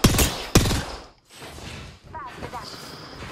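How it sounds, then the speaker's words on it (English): Gunfire in the video game Apex Legends, two sharp loud shots at the start followed by rumbling, muffled game noise and a faint voice later. "Firing on our foes."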